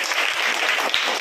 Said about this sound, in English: 3 claps go for him